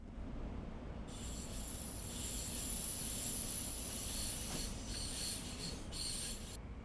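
A passenger train in a railway simulator game rolls into Peterborough station. Its wheels squeal steadily at a high pitch over a low rolling rumble, at fairly low volume, with no talking.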